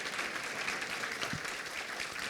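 Faint, even audience applause at a panel on private social investment in racial equity, a soft continuous patter of clapping without talk.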